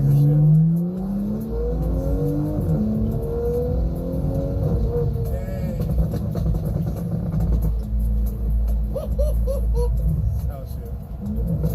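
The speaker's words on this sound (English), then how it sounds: "naturally it's downshifting to give me freaking pops and bangs" A car's exhaust crackles and pops as it downshifts, the engine rumbling and falling in pitch while someone talks over the rough, sputtering bursts.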